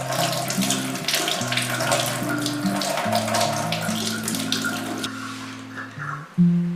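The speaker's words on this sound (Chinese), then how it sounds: "切好的菜用流动的水冲洗一下。" Chopped cabbage being rinsed under a running kitchen tap, a steady splashing stream of water that continues for several seconds, close and fairly loud, alone with light background music and no talk.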